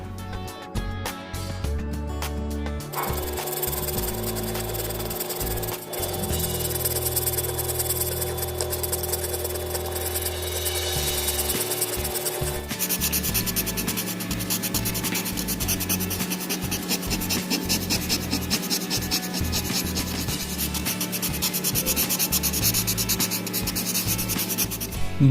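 A charcoal pencil rubs and blends across paper in a steady, scratchy rasp that continues with little pause and stays fairly loud throughout.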